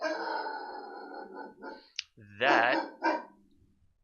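A large Mastiff dog gives a couple of deep, loud barks nearby, following a man's speech and a brief click.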